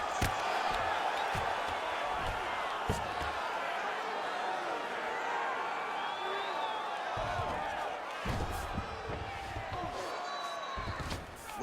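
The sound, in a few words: arena crowd reacting to a strike in a UFC fight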